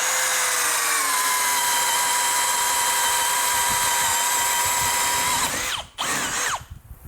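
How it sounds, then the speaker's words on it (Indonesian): A Bosch GSB 185-LI brushless cordless drill drives a 20 mm spade bit through mahogany, a loud, steady high whine held for over five seconds before the motor stops and two short bursts follow. "Langsung aja yuk kita bor."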